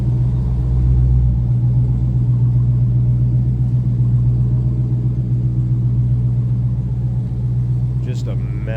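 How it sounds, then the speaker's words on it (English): A 2022 Dodge Challenger SRT Hellcat gives off a deep, steady exhaust rumble at idle, heard close and loud and continuing evenly, with a brief sharper sound near the end. "Just a menacing exhaust note on these."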